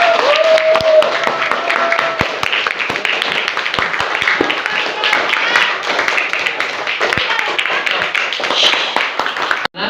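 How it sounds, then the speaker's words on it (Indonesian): Students clapping in a university classroom, fairly close and loud, with individual hand claps standing out in a continuous patter that stops abruptly near the end, while voices murmur underneath. "tepuk tangan dulu"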